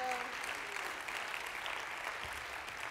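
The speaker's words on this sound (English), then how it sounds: "Yeah, clap for that." An audience applauding steadily, a dense wash of clapping that holds at an even level throughout.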